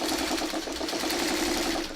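A sewing machine stitches a curved seam on a quilt block, a fast steady mechanical whir with rapid rhythmic needle chatter, close and continuous for the whole moment.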